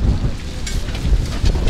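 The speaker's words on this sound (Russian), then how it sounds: "Конечно, ветер задувает." Wind gusts across an open-air market in Donetsk, buffeting the microphone with a loud, constant low rumble.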